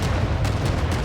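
Artillery barrage in the video game Stranded: Alien Dawn: a dense, continuous roar of booming blasts rumbling together at high volume, with no gaps and no voices.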